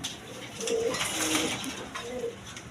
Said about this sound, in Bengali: দর্শকবিন্দু এখানে এক পেয়ার নিউ অর্ডার শার্টিং কবুতর আছে দেখেন